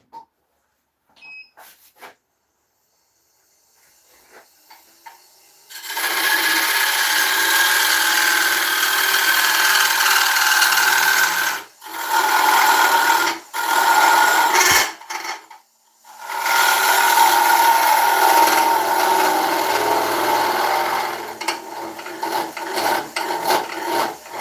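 Carbide tool cutting an oak bowl on a wood lathe, a steady rasping scrape that starts after a quiet pause and runs in long stretches broken by brief stops.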